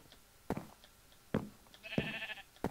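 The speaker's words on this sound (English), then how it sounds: "I did hear a sheep" A Minecraft sheep bleats once, a drawn-out nasal call, amid several sharp clicks and taps, fairly clear and unaccompanied by talk.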